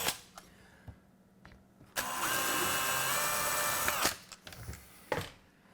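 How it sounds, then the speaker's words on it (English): A power drill runs in one steady two-second burst into a wooden kitchen cabinet hinge hole, bracketed by quieter clicks and handling knocks before and after. "and we're going to re-drill."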